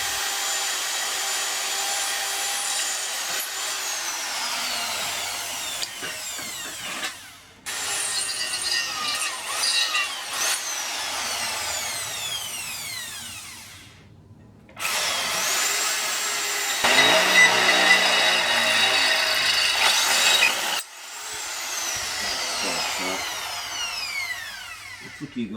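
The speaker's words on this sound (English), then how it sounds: "So just putting it through around about a 4mm diameter pilot hole, and I'll pop that through with an 11mm" A power drill bores a 4mm pilot hole, then an 11mm bit follows, for a homemade bell mouth under-reamer tool. Loud whining bursts of drilling come close up, broken by short pauses, with no talk.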